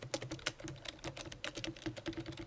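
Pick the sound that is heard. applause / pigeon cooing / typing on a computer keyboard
typing on a computer keyboard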